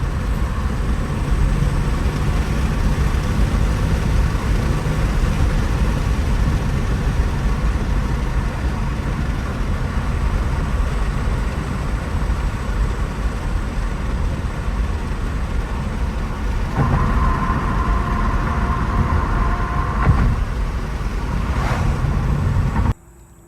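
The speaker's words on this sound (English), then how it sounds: "my 2003 Acura CL Type S 6-speed manual" 2003 Acura CL Type S with a 6-speed manual driving on a road, a steady broadband engine and road rumble with wind noise, fairly even for the whole stretch before cutting off at the end.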